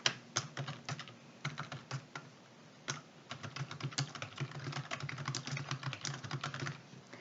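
Steady typing on a computer keyboard to enter spreadsheet content in Excel, a dense run of close, crisp key clicks with short pauses, alone with no voice.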